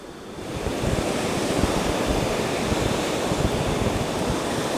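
Ocean surf rolls continuously onto Kata Noi beach in Phuket, a dense, steady wash of breaking waves with some wind rumble, close and loud.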